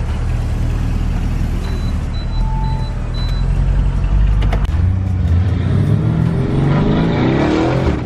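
Lamborghini Urus SUV engine running close by at a fuel stop, a steady deep rumble that swells into a rising rev toward the end, with no talk over it.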